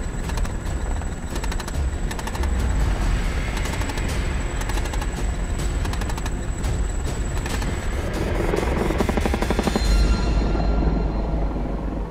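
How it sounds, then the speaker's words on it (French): Rapid cannon fire from a French Army Tigre attack helicopter's 30 mm gun, a long continuous burst of clattering shots over the steady loud rotor and turbine roar, with the firing rhythm thinning near the end. "le canon de 30 mm."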